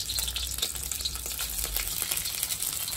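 Ginger garlic paste frying in hot oil in a pan, a dense continuous crackle and sizzle with small popping bursts, close and steady throughout.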